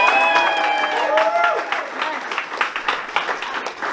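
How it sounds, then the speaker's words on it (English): An audience applauds Assemblymember Evan Low at a campaign event in Elk Grove, with dense clapping that tapers over a few seconds. Voices sound over it at the start. "Please give him a round of applause."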